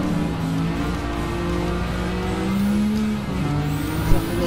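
A Nissan R35 GT-R race car engine in Gran Turismo 7 hums at steady, lightly feathered throttle, a continuous loud drone with shifting pitch and no voices.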